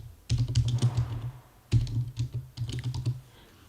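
Keys clatter on a computer keyboard in two quick bursts of typing, close and crisp, with brief pauses between runs of rapid clicks.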